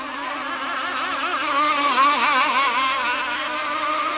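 Gas-powered model rigger boats race at a national event, their small engines buzzing loudly and steadily with a wavering, rising and falling whine as they run close by.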